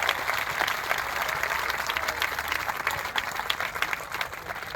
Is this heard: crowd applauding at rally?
yes